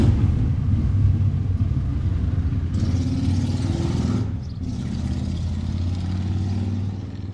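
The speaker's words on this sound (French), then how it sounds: "il y a une virée de moto." Steady engine rumble of a motorcycle moving along, loud and continuous with a slight shift in tone partway through, no voices.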